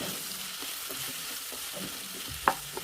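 Turmeric and chili powder are stirred into frying plantain, making a soft, steady sizzle with light scraping strokes and one sharp clack of a spoon against the pan near the end.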